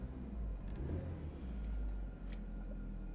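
A Hyundai car engine runs and revs after a spark plug repair, a fairly quiet, steady low engine hum with slight rises in revs, no talking.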